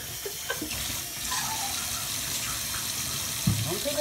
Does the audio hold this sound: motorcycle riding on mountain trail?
no